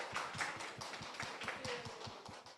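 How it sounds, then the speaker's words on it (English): A small group applauds a speaker at a tech show-and-tell event, the claps sparse and individually distinct in a loose rhythm, quiet and somewhat distant in the room. "Please give her a round of applause."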